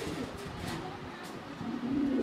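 A big-sized pair of Pakistani high flyer pigeons coos softly in low, rolling murmurs, faint and close with no talk.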